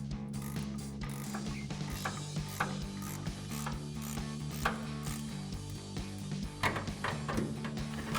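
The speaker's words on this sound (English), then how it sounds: "we can loosen up this 18mm nut with an 18mm ratcheting wrench" An 18mm ratcheting wrench loosening an 18mm nut on a Ram 1500 sway bar end link, giving a continuous run of close, rapid ratchet clicks with a steady mechanical hum underneath.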